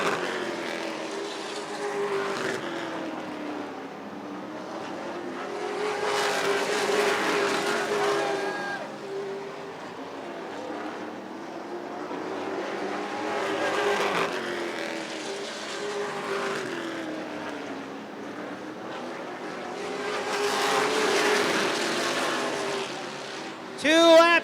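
602 late model race cars at a National Short Track Championship feature, engines swelling and fading in repeated passes as the pack roars around the short track, loud and buzzing, with an announcer talking over it.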